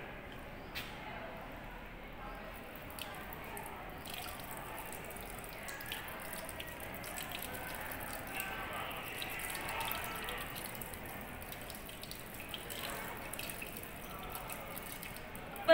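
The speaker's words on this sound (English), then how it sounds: "So under the tap water, we are cooling it." Tap water runs over a test tube to cool it in a chemistry lab, a faint steady trickle with light drips, heard under a voice talking.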